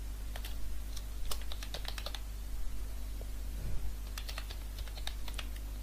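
Computer keyboard typing while a resume is being written, with bursts of quick key clicks separated by short pauses over a steady low hum, moderately close and alone without talk.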